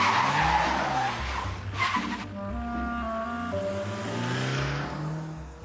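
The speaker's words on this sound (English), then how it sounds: "the Astra seemed to be running on petrol very happily" A Vauxhall Astra diesel car running on petrol drives past with a rough engine drone that rises and falls, plus a burst of tyre noise near the start, moderately loud and fairly close.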